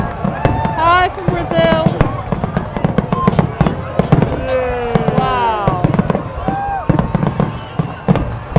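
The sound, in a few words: fireworks exploding over Dee Why Beach, Sydney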